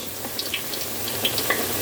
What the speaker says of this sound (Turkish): kızartma tenceremize alıp kızartıyoruz